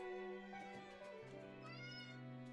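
A hungry cat gives a long, drawn-out meow close by, rising and bending in pitch, heard alone in a quiet room.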